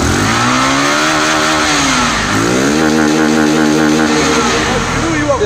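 A fuel-injected motorcycle with its original engine and the rev limiter removed revs hard close by, its pitch dipping and climbing again in loud, buzzing sweeps while someone talks over it.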